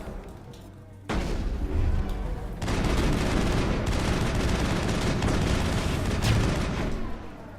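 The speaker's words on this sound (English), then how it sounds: "Switch to shotgun." Shotgun fire and combat in the Mass Effect video game: a sudden loud onset followed by sustained dense blasts and rumbling battle noise that stays strong and continuous, close and forceful, with a voice briefly heard beneath.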